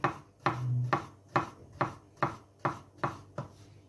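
A knife slicing mushrooms into thin strips for a risotto, crisp evenly spaced cuts against a board, about eight distinct chops in a steady rhythm, close and clear with no talk.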